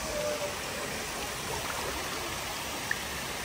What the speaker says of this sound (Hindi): भाई एलिफेंट हमारा पानी के अंदर चला गया भाई।